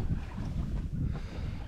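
A sailboat moving under sail at about three knots with a slight swell, heard as a low, rumbling wash of wind and water buffeting close by, steady with gentle surges.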